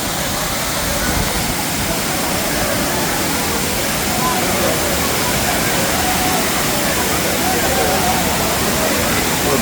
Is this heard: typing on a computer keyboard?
no